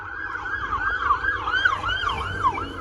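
An ambulance siren wails in a rapid rising-and-falling pattern, fairly close and loud, with faint road traffic underneath.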